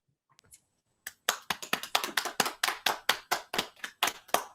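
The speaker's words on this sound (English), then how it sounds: "But I'd like to invite everybody to give a round of applause for Mark and for his presentation now" A single pair of hands claps steadily and fairly close after a seminar presentation, a brief faint tap first, then a run of sharp claps with no talking.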